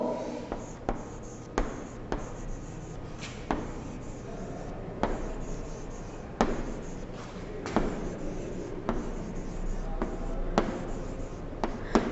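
Pen or pencil writing slowly on paper, a faint close scratching with short regular taps and strokes, heard alone against a quiet room.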